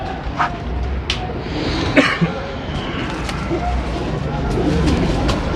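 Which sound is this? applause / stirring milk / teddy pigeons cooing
teddy pigeons cooing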